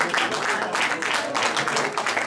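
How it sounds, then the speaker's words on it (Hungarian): An audience at a village jelly-cooking and scone-baking contest in Bogács applauds a contestant, a steady dense wash of clapping from a moderately sized crowd lasting a couple of seconds. "Megérdemli a tapsot."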